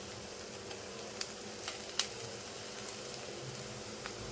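Diced potato, chopped onion and seasonings being sautéed in a pan for a dabeli sandwich filling, giving a soft, steady sizzle with a few faint stirring clicks and scrapes, no voices.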